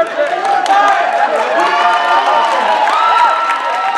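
A dating-show studio audience claps, cheers and whoops together in a steady, loud, continuous roar of crowd noise.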